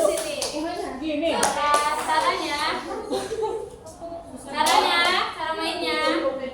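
Hand clapping in a 'tepuk hirup hitung' group game, a few short bursts of claps mixed with children's chatter and light laughter, with voices talking over much of it.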